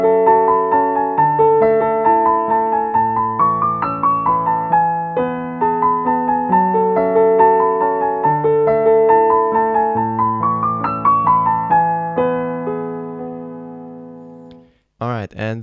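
Solo piano plays the left-hand part of a piece, a steady flowing pattern of broken chords with sustained notes, clear and close, for about fifteen seconds before a brief unrelated sound at the very end.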